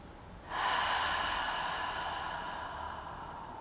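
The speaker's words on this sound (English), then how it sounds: "Sorry if you hate the sound of breathing." A long, steady breath drawn in or out close by during a yoga session, a soft airy hiss that starts abruptly and fades slightly over several seconds.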